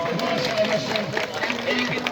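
Applause from the audience at the opening ceremony of the 5th Ashura event held by the Boynuinceli Yörük community in Erdemli: a dense, steady crackle of many hands, with voices mixed in throughout.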